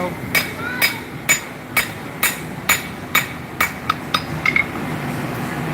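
Hammer strikes forging a kumai billet of layered steel with copper at a live custom knife show demonstration: about a dozen sharp metallic clanks in a steady, unhurried rhythm, fairly close, over a hum of crowd background.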